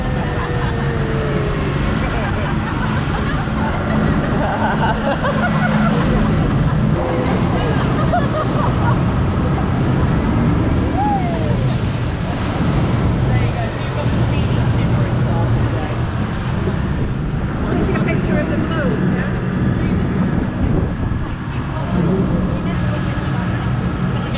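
A speedboat engine hums over rushing water and wind buffeting the microphone on the River Thames in London, with spray and wake noise throughout.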